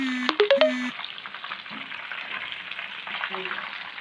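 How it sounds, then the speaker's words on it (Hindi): Fish fillets fry in oil over a medium flame with a continuous, close crackling sizzle; a few short electronic tones sound at the start, and another brief pair follows near the end. "तो देखते हैं फिश फ्राई हो रही है"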